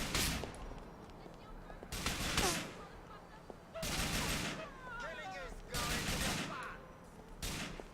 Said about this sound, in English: Who exactly is shooting at me and where from?